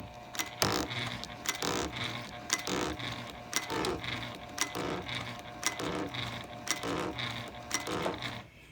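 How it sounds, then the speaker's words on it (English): A Juki or Janome heavy-duty sewing machine stitching vinyl under a Teflon-coated metal foot, with a steady rapid mechanical ticking and irregular scraping clicks as the material catches on the plate, fairly close and continuous without talk. "It's the odd noise is because of the vinyl catching or making a scraping noise on the bottom of the plate"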